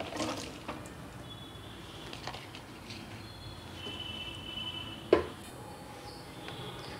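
About three-quarters of a cup of water is poured into a cooking pot holding pumpkin and milk, making a faint, soft splashing trickle with a brief louder splash midway.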